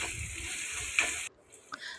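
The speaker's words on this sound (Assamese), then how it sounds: "আলুকেইটা এনেদৰে কেৰাহী দিলে অলপমান আধা সিজা হোৱালৈকে ভাজি ল'ম" Potatoes fry in a kadai with salt and green chillies, a close, steady hiss that cuts off abruptly partway through, leaving a quiet pause and one brief scrape.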